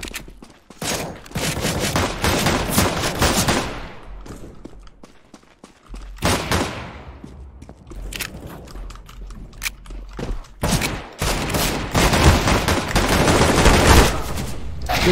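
Bursts of rapid gunfire from weapons in the game CS:GO, loud and close, come in clustered volleys with short pauses between them.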